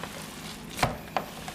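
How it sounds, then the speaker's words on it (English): Hands knead and slap raw summer sausage meat being mixed, giving two soft, close wet thumps against a quiet kitchen background. "just kneading it back and forth, flattening it out and folding it back in"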